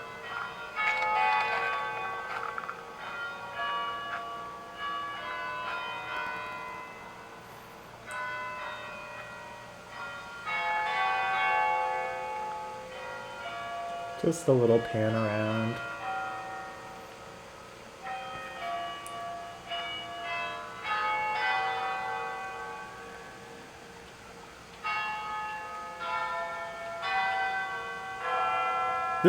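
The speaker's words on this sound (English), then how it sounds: "But then the actual bell performance for 5 p.m. started." Carillon bells ringing out a chime performance at 5 p.m. in Montreal, a sustained run of tuned tones carrying over city ambience, with one brief louder knock midway and a short spoken remark.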